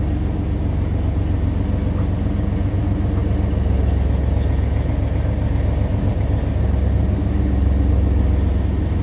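A 1993 Chevrolet C1500 pickup's 4.3-liter V6 idles steadily with a low, even rumble and faint rhythmic ticking, nearby and unbroken, with no one speaking.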